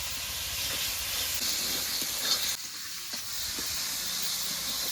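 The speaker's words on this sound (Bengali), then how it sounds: "এবার নেড়ে ছেড়ে মশলাটাকে ভালো করে কষিয়ে নেব" Ground spice paste with turmeric is stir-fried in a pan for a soybean and cabbage dish, a loud steady sizzling hiss close by that drops briefly midway, with soft stirring scrapes and no voices.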